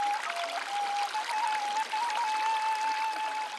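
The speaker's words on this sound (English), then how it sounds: "Fresh spring water." Fresh spring water at Mount Shasta flows and pours steadily nearby, a continuous bright trickling stream with no voices.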